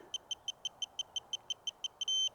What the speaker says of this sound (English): I heard the beep, the solid beep.